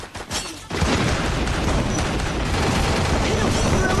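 Gunfire in an online shooter game as a headshot lands: after a brief quieter moment, a sustained dense burst of rapid shots and booms fills the rest, loud and continuous, with voices talking over it.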